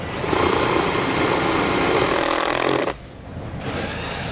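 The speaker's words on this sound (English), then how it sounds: "We're just going to drill it right into that bar." A nut driver drives a self-tapping screw into a metal awning bar on a 2002 Itasca Suncruiser RV, giving a loud, steady whirring drone for about three seconds before it stops abruptly and a quieter hum remains.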